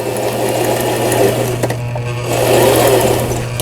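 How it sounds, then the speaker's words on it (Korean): A Brother XL3500 sewing machine stitching under repair, its motor whirring in two loud, steady runs with a brief pause between them, heard up close with no talk. "각종 기능들 정상적으로 박음질돼서 나오고 있습니다"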